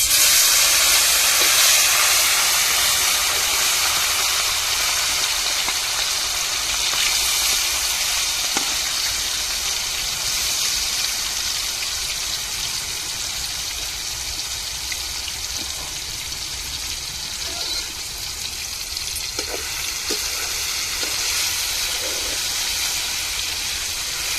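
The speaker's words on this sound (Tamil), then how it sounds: "இப்போ அள்ளி அப்படியே இறாலை பொரிச்சு எடுத்துக்கிடுவோம் ரைஸுக்கு." Marinated prawns frying in hot oil for fried rice, a steady loud hiss and sizzle that continues throughout with little change, a few soft pops breaking through.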